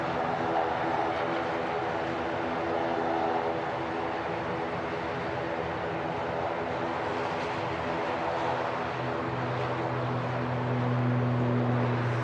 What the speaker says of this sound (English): There we go, spooling up the Aer Lingus ATR.